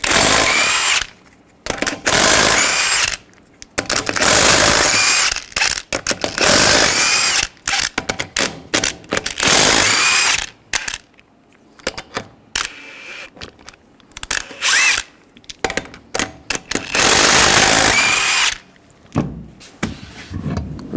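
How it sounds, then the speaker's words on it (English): An impact gun with a 22mm socket spins the wheel lug nuts off a 2007-2013 Chevrolet Silverado 1500, loud close bursts of buzzing power that come again and again between short pauses. "take the lug nuts off."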